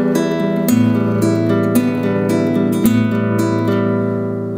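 Acoustic guitar right-hand fingerpicking exercise: plucked strings in a steady, flowing pattern of notes over ringing bass tones, loud and close, with no talking.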